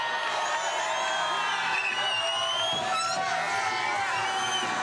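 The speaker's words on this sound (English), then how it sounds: "Listen to this crowd and watch the man at work." A large X Games crowd roars and cheers for BMX rider Mat Hoffman at the 1996 event, a continuous distant wash of voices and whoops with whistle-like tones drifting over it.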